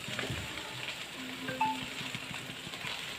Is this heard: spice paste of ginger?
yes